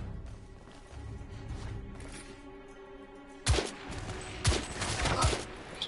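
Gunfire from the shooter game The Order: 1886, starting with a low rumbling ambience before a burst of loud, sharp shots at close range, several cracks in quick succession with echoing tails.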